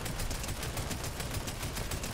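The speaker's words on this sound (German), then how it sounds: "ich sehe nur Schüsse" Rapid gunfire crackles continuously in a Fortnite match, a dense, loud burst of overlapping shots with no speech over it.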